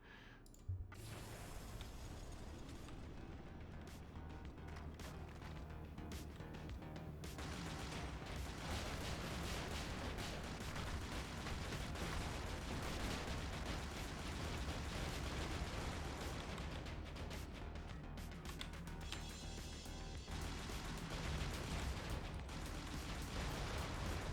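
Mortar fire in the Brigador video game comes through as a sharp pop followed by a long, dense rumble of blasts and mechanical clatter that runs steadily throughout at fairly low level.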